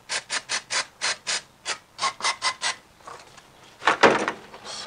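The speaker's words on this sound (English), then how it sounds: "Wipe things off." A cloth rubs back and forth over the throttle body of a Kia Sportage after cleaner is sprayed, a quick series of rhythmic close wiping strokes followed by a rougher, louder scrub.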